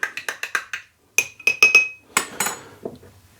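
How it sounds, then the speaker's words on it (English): A spoon stirs a yeast starter before it is pitched into blackberry mead must, giving a quick series of sharp clinks and taps against the container, with a couple of louder scraping swirls toward the end. The sound is close and clear, with no talking. "So I'm going to give it a stir, just to stir down that head."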